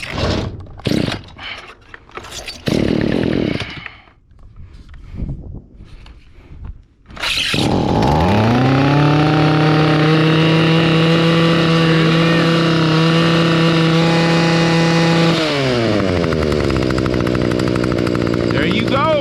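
Stihl string trimmer with a replaced coil: a few pull-start tugs and sputters, then the small two-stroke engine catches and revs high and steady before easing down near the end, close and loud.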